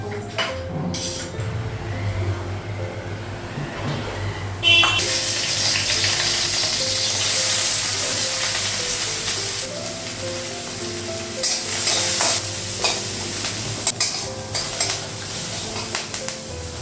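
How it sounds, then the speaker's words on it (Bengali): Onions frying in oil in a pan, a bright sizzle that swells partway through, with repeated scrapes and clinks of a spoon stirring against the pan, close and fairly loud. "পেঁয়াজটা ভাজা হয়ে গেছে"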